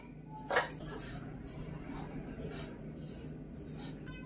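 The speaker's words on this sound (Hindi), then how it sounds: "इनको भी धीमी आंच पर चलाते हुए भून लेंगे" A spoon scrapes and clinks against a kadhai as grated coconut roasts in a little ghee over a low flame for oats and jaggery ladoo. There are a few scattered metallic taps, a soft continuous rasp and no voices.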